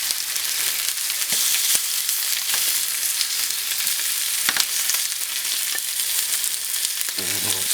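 Goat chops, patted dry and seasoned with salt and pepper, fry in a hot pan with a steady, loud, continuous sizzle and occasional crackles and pops, with no talking.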